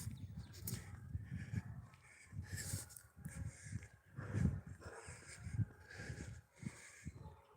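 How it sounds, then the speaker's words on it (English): A Kentucky hunting dog barks repeatedly in the mid distance outdoors, irregular bursts of moderate loudness with rustling in between and no talk. "We hear a fine Kentucky dog."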